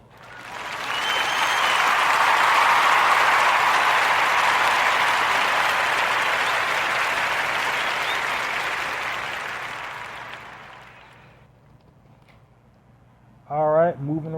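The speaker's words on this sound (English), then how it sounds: "giving young Kennedy Miller of Russ County, Texas, a warm narrative podcast round of applause" A podcast audience's warm round of applause, dense, steady clapping that swells quickly, holds for about ten seconds, then fades away, followed by a brief voice at the end.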